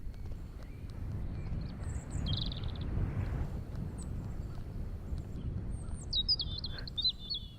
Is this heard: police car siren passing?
no